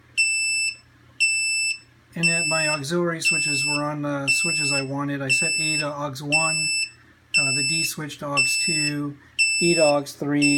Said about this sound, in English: sorry about the beeping here